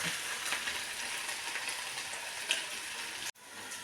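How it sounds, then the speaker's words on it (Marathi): Steady sizzling of food frying in oil, a bright crackling hiss that cuts out briefly near the end before resuming. "तळताना असं लालसर तळायला पाहिजे"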